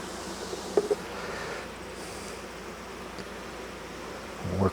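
Honey bees hum in a steady, diffuse drone at the hive entrance during a late-season brood chamber inspection, with faint rustling and a couple of brief knocks, one near the start and another at the end.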